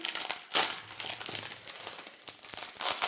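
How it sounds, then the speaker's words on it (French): A plastic packet of diamond painting diamonds being torn and crinkled open up close, with several sharp rustling bursts and crackles and no talking. "Si j'arrive à ouvrir le paquet."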